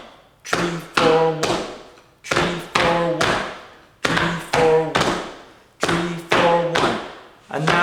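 Rhythmic foot taps from a fiddle-and-feet workshop, falling in repeating groups of three thumps on the 3, 4 and 1 counts. The taps are close and firm, with short pauses between groups and no talk.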